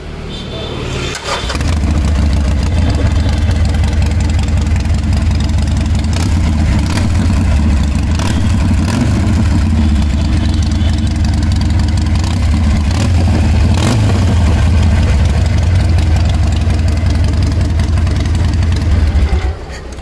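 Harley-Davidson Street Rod motorcycle engine starts up and settles into a loud, steady, close idle with a deep low-end rumble and a few small throttle blips, with no talk over it.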